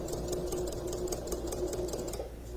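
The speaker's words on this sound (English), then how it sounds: "I'm stitching close to the edge on the other side" A sewing machine stitches steadily along a placket edge in a close, continuous, even run of rapid needle clatter with no pauses, and no one talks.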